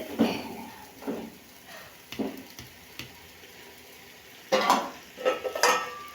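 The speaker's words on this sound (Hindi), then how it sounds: "फ्रेश बीन को 2 से 3 मिनट में भून के फिर इंशाल्लाह इसको लगा दूंगी मैं दम।" Fresh beans are roasted in a pot, with bursts of scraping and stirring over a quiet sizzle, several separate strokes close by and louder near the end, no talking.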